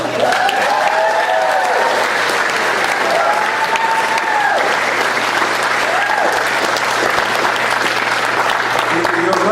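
Sustained audience applause fills a hall during a political speech on Palestinian advocacy, loud and steady throughout with a few voices calling out over the clapping.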